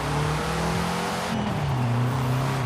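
Engine of a 1973 BMW 2002 Turbo in Forza Horizon 4, a steady droning note that shifts pitch as revs change, continuous and fairly close with no talk.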